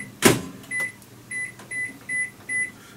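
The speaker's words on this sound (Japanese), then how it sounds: "ちょっと電子レンジで温めましょうかね" A microwave oven heating a boxed bento meal hums with a sharp clunk at the start, then a series of short electronic beeps repeating at regular intervals.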